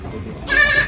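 A goat bleats once, loud and close, on a farm where goats are giving birth, with low background noise before the call.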